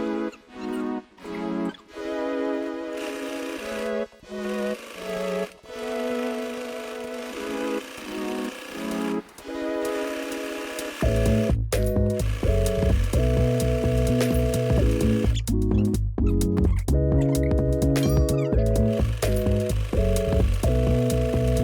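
A sewing machine stitches a pinned seam on a Pokémon-themed skirt with pockets, humming in short stop-start runs at first, then in a long steady pass; close and moderately loud, no talking.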